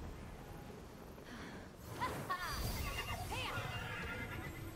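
Horse neighing in the video game Immortals Fenyx Rising: a quiet whinny with rising and falling tones over low game ambience and faint background rumble.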